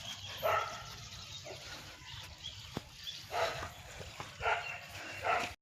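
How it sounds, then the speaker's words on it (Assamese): A dog barking at a distance in a rural yard, several short separate yips and barks spread across a few seconds, faint against quiet background hiss. "তাৰ মাজতে এটা কুকুৰ আছে সেই কুকুৰটো ভুক ভুকে আছে"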